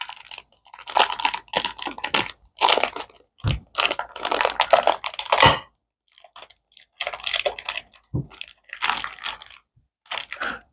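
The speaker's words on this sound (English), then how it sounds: "this is a 9-ounce tube of beef chorizo. Let's get that cut up and get that added in there." A knife cuts through a tube of beef chorizo with irregular clusters of soft, crunchy slicing taps, close and separated by brief silences.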